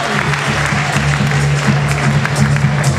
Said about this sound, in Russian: Аплодисменты Анатолий Алексеевич и ребятам.